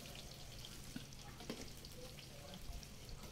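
Small potato pieces frying in hot oil over a high flame, a steady faint sizzle with soft crackles and a few light stirring clicks, heard without any talk.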